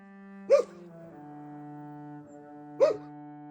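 A dog barks twice, a few seconds apart, each bark short and distinct over a low, steady humming tone, in the village of Voronenka near the state border.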